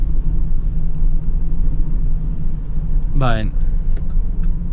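A 2026 Chevy Express passenger van with a V6 engine accelerates, its low engine rumble and road noise droning steadily throughout, with a brief rising tone sweeping up near the end as someone speaks over it.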